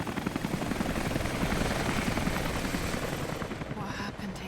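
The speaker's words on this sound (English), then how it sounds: "helicopter." A helicopter in the action video game Rise of the Tomb Raider churns with a rapid, pulsing rotor chop, holding at a moderate distance before thinning out near the end.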